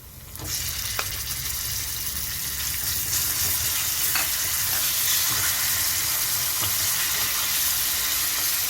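Ground onion roti chutney tossed into a pan with curry leaves and coriander, giving a continuous strong sizzle with occasional spoon-stirring clicks and scrapes throughout, close and without speech.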